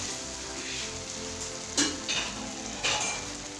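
Boiled rice hits a hot pan of Punjabi tarka for egg fried rice, sizzling and crackling steadily, with a few louder bursts of spatter and stirring scrapes standing out over the constant frying hiss.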